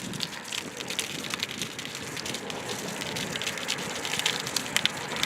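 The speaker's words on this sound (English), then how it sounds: "that's just straight police tape in the wind" Police tape flapping and rattling in the wind at a Los Angeles crime scene at night, a steady rustling and fluttering clatter that runs throughout with no speech.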